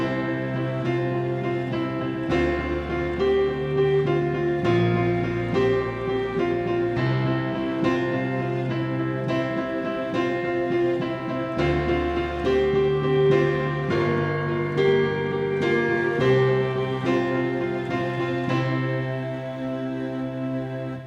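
Piano plays a steady eighth-note chord pattern for the worship song For Unto Us A Child Is Born, left-hand bass notes shifting under repeated right-hand chords, even and moderately loud throughout.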